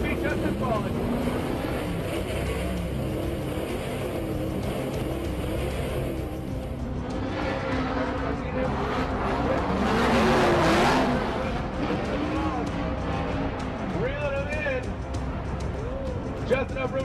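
Drift cars battling in a top 32 Formula Drift round at Long Beach, with engines roaring and revving throughout and a louder surge near the middle as they pass close, all under continuous commentary.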